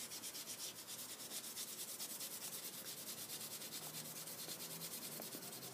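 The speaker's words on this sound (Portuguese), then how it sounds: "Eu vou começar a pegar um bombrilzinho. E vou esfregar, dar uma esfregadinha." Steel wool scrubbing a rusty surface, a rapid, even back-and-forth rasping that repeats in a steady rhythm throughout, close and fairly quiet.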